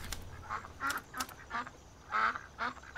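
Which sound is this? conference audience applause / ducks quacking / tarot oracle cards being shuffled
ducks quacking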